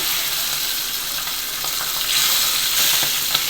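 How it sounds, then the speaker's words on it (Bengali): Pabda fish fries in hot oil in a frying pan, giving a loud continuous sizzle that swells after a moment, with a few faint scraping clicks near the end. "ফ্রাই প্যানে তেল দিয়ে দিচ্ছি, মাছটা দিয়ে দিচ্ছি"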